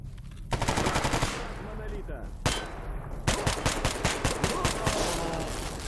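Rapid automatic gunfire from the shooter game STALKER Anomaly, loud bursts of shots with a short pause, then a longer stretch of fast rattling fire, with a faint voice partly underneath.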